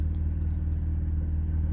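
Inside a BMW M4 on the move, a steady low engine drone and road rumble hold constant, close and enveloping.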